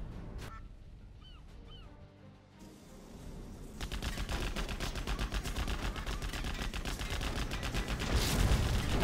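Rapid, dense Gatling tank fire in Command & Conquer Generals during a competitive match, a continuous rattling stream growing louder after a few seconds, with some honking unit sounds early on.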